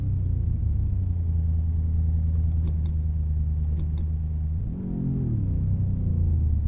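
Simulated truck engine in American Truck Simulator idles with a steady low rumble, a few faint clicks overhead, then the pitch lifts briefly as it revs and pulls away.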